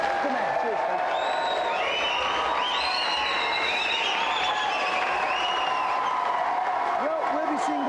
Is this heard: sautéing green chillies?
no